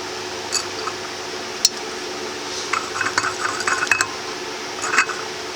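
A wooden chopstick pushes sausage patties down into a glass canning jar, giving soft squishy scrapes and a few light clinks against the glass, close and fairly quiet with no talking.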